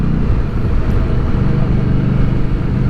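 A motorcycle rides along a country road, its engine a loud, steady low drone mixed with wind rush, heard close from the rider's position without pause and with no talk.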